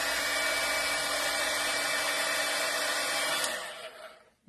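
A heat embossing tool melts embossing powder with a steady, close, hair-dryer-like whoosh that holds constant, then cuts off near the end, leaving quiet.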